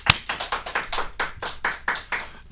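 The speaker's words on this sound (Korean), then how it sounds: "큰 박수로 환영해 주십시오." A small studio audience welcomes a guest with sparse, rhythmic clapping: about a dozen crisp claps at a steady pace, close and fairly loud, with no voices.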